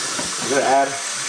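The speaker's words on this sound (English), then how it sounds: "And then we gotta add water" Water pours into a pot for cooking Mexican rice, a short close hissing splash that swells briefly and fades.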